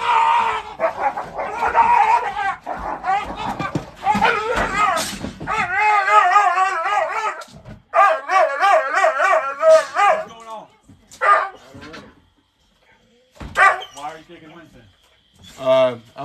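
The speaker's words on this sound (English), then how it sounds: "That's my dogs." Several dogs fight and bark close by, with loud overlapping barks, yips and whimpering howls in frantic bursts that ease into sparser yelps toward the end.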